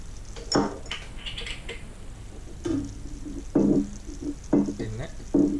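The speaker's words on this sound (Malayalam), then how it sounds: "പിന്നെ ഇതൊന്ന് മിക്സ് ചെയ്യാം." Thai green curry pasta with crushed chilli is stirred in a pan, with a utensil clinking and scraping against the metal in several close, uneven bursts, while a person talks over it.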